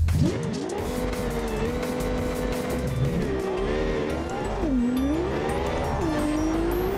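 Simulated car engine in BeamNG.Drive, a build aiming past 300 mph, revving hard as it accelerates, with the pitch climbing and dropping at each gear change over steady loud engine drone and some tire noise.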